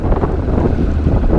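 Fishing boat idling back to the boat ramp, a steady low engine rumble mixed with strong wind buffeting the microphone, continuous and close throughout.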